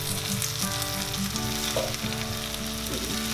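Cooked rice is stirred into a hot, sizzling pan for lemon rice, with loud continuous frying hiss and soft scraping of the spoon close by, no talking.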